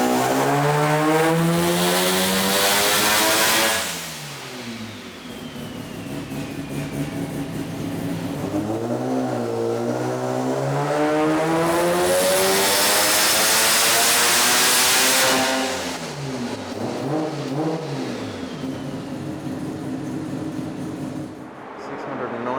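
A tuned Mazda rotary engine revs hard and loud, rising and falling in long sweeping pulls with a brief dip between them, close up and without talk.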